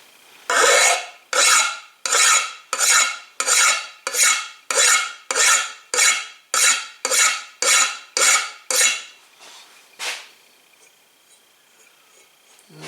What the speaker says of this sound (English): Here we got us a little fine flat file, and we're just going to take the burrs off the back.